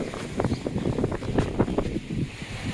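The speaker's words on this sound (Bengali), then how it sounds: "প্রচন্ড হাওয়া এখানে।" Strong wind sweeps across an open seaside waterway between Singapore and Malaysia, buffeting the microphone in loud, rumbling gusts with faint water movement beneath.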